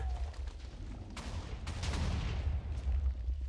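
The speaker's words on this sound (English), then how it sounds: "the things are still shooting" Enemies fire in modded Minecraft with a sharp burst of gunshot-like blasts, a few loud cracks followed by a rumbling, booming barrage over a low steady background.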